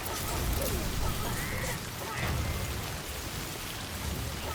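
Steady, loud rain hisses without letting up in Death Stranding, a video game, with the downpour swelling slightly twice and no voices.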